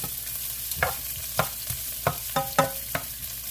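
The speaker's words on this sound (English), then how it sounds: "This is 1 large onion that I've chopped up. I'm just going to saute it a little bit." One large chopped onion sizzles in a hot pan while being stirred, a steady frying hiss broken by sharp scraping clicks of the utensil at irregular intervals, close and fairly loud.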